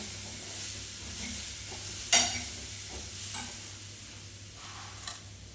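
Spices being stirred and roasted in a pan on a low gas flame. A soft, steady sizzle runs throughout, broken by a few sharp scrapes and clinks of the spoon against the pan.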